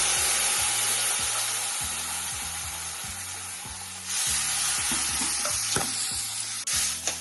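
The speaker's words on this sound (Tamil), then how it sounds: "இப்போ நான் அதில் தண்ணி ஊற்றுறேன். வெந்நீர் வச்சுருக்கேன்." Hot water goes into roasted rava in a pan for Tanjore-style rava kesari, giving a steady hiss and sizzle with light stirring scrapes, and a louder burst of sizzling partway through; no talking.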